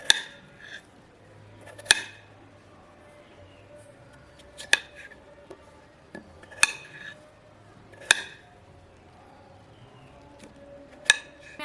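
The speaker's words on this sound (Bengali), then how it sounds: "এবার ছোট ছোট টুকরো করে আলুটা কেটে নেব।" A peeled potato cut into small pieces, with sharp, isolated knife chops against a board every second or two, close and clear over a quiet background.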